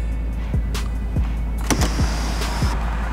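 Power windows whir upward in short motor bursts, several in a row inside a car with its muffler deleted, fairly close and steady over a low background rumble.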